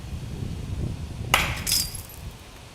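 A single sharp crack and brief glassy tinkle as a blow chips the edge of a pane of tempered glass, close and sudden against low background rumble.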